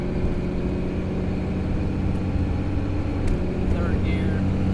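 A vehicle with a Firepunk Anteater Pro tap shift transmission controller driving and shifting through its gears, heard as a constant loud engine and road drone, with a person talking over it.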